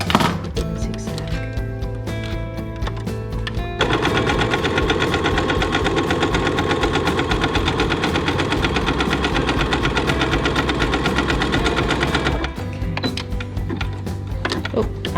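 A sewing machine runs a zigzag stitch along apron ties in a fast, even mechanical chatter that holds for about nine seconds and is framed by quieter, slower stitching and handling noises, with a voice speaking faintly.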